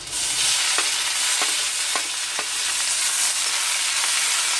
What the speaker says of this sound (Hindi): और ये हमारा प्याज फ्राई हो चुका है।